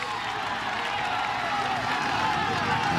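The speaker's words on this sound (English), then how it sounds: "a lot of the Spanish fans cheering one of their favorites, Alejandro Valverde" Spanish fans line the road at the Vuelta a España individual time trial, their cheering and clapping a dense, distant roar that holds steady and unbroken.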